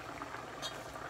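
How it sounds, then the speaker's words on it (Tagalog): Frozen squash simmers in a pot of boiling water, with a faint, brief bubbling and gurgling. "ngayon, pinapakuluan ko lang itong aking kalabasa"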